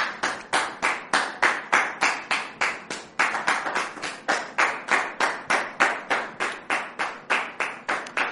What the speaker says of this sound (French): Merci de recevoir notre sœur sous vos applaudissements